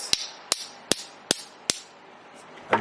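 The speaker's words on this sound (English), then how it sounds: "enough pressure and force to hammer it to kind of get it to bend like this" A hammer strikes a metal shoelace tip on leather to bend it, five sharp, evenly spaced close taps followed by a pause and a brief clatter.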